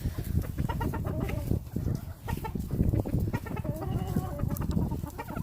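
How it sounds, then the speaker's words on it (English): Gentle game fowl rooster clucking softly up close, a string of low murmuring clucks and short calls over a faint farmyard background. "See, this rooster, he's real gentle."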